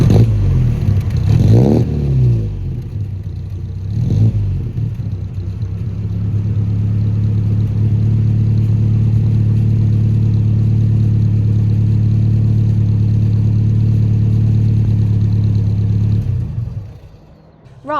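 A 1960s Sunbeam Rapier Mk III saloon engine on a chilly morning, heard from the rear: a couple of revs, then a loud, steady low idle rumble that holds for over ten seconds before cutting off.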